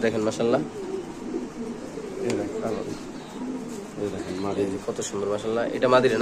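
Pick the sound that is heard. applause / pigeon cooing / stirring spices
pigeon cooing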